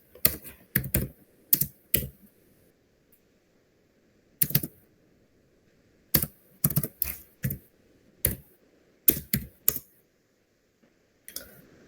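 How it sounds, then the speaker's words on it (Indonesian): Someone types a Linux terminal command on a computer keyboard. Crisp key clicks come in short clustered bursts separated by pauses, close and clear over a faint background hum. "saya akan mengetik cd plus cd spasi slash"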